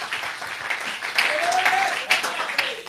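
Church congregation applauding for Jesus Christ during a bilingual French and Swahili sermon, a steady patter of clapping with voices rising over it, fairly close and moderately loud throughout.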